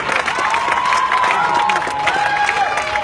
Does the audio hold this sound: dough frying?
no